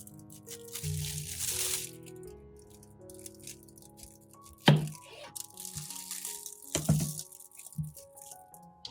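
A knife cuts into a watermelon to trim off its ends, giving two distinct crisp crunching cracks a couple of seconds apart among quieter rustles and soft wet handling sounds at close range.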